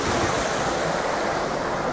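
Water rushes steadily and loudly as a canal staircase lock fills, a continuous broad roar with no talk.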